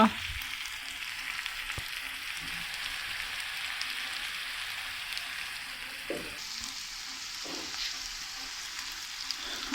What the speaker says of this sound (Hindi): आलू हमारे गल चुके हैं, प्याज भी भून चुका है, और अब इसमें डालूंगी अंडा।